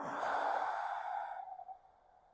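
A long, soft breath pushed out through the open mouth during seated yoga breathing for calm, starting strong and then fading into quiet near the end, with no voices.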